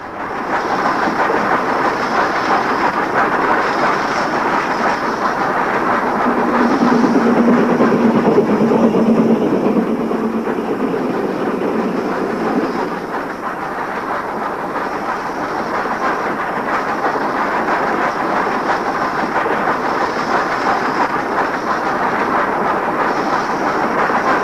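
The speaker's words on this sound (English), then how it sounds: "meet a Whitby to York train with Class 5 loco number 45447 of Northampton shed in charge" A Whitby to York train hauled by Class 5 steam locomotive 45447 rumbles past in a long, loud, continuous roar with rolling wheel clatter, swelling midway and then easing to a steady drone, with no voices.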